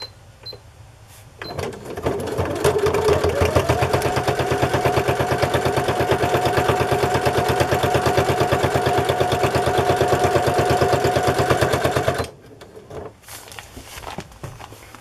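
A sewing machine runs a straight stitch along the edge of a crinkly Amazon envelope turned journal cover, a fast steady mechanical chatter lasting about ten seconds, starting and stopping cleanly, close and fairly loud.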